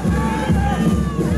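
An audience at a marinera dance competition cheers and shouts in a short, loud burst of crowd noise.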